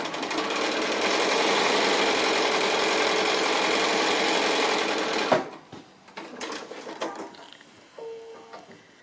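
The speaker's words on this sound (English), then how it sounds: "don't forget to stitch both edges, otherwise it will just flap" A sewing machine runs loud and close as it stitches the edges of a simple square pin cushion, a fast steady whir for about five seconds before stopping abruptly and leaving a few scattered handling clicks.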